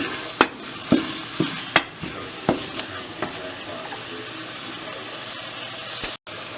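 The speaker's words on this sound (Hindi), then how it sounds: "तो इसको भूनते रहते हैं कीमे को" Minced keema meat frying and being stirred in a pan, with a steady sizzle under repeated sharp spatula scrapes and clicks in the first few seconds, then continuous frying alone.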